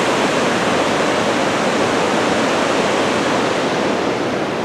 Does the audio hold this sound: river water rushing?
yes